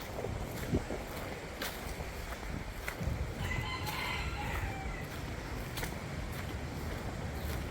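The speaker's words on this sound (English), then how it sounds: "Wild chickens roaming around." Wild chickens in Guadeloupe, with a rooster crowing in a drawn-out call mid-way amid soft clucks, set against steady outdoor wind and water noise.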